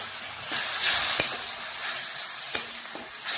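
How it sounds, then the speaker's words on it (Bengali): Spices with Kashmiri red chili powder sizzle and fry in a pan, a steady broadband hiss with a few sharp spoon-and-pan knocks from stirring, close and moderately loud. "এটাও ভালোভাবে নাড়াচাড়া করে মিশিয়ে মশলা একটু ভেজে নিয়েছি"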